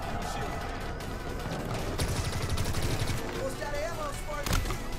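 Automatic fire from a new gun in the video game Halo Infinite, rapid bursts of close, loud shots rattling in quick succession, with a heavy crack near the end.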